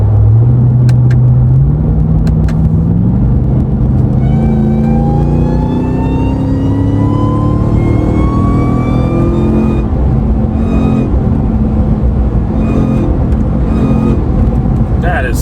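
A Ram TRX pickup truck engine with a JMB Performance high-flow intake revs up loudly, its pitch climbing steadily for about ten seconds, then settles into a deep, rumbling drone.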